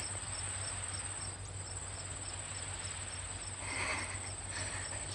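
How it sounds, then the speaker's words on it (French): A cricket chirps steadily in a quiet night setting, rapid regular pulses repeating throughout over a faint low hum, with no voices. "Dis au grillon qu'il se taise."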